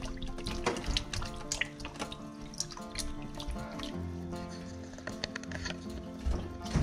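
Tap water runs and patters over grilled bell peppers as their charred black skin is rinsed off at a sink, a steady close splashing and dripping that continues throughout with no talking.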